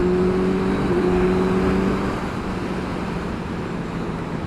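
A Suzuki GSX S1000 motorcycle cruising in fifth gear gives a continuous, loud engine drone. Its tone shifts briefly early on, then settles into a softer, steady road roar.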